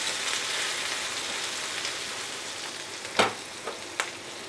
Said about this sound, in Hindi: ड्राई मसाले डालने के बाद हम बस मसाले को मिक्स करेंगे और डालेंगे एक बड़े साइज के टमाटर को छोटे छोटे टुकड़ों में काट के